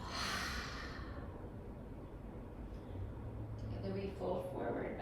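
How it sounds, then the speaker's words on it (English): A single long breath pushed out through an open mouth during a guided breathing exercise, a soft airy rush that starts strong and fades over a second, followed by quiet room tone. "and exhale."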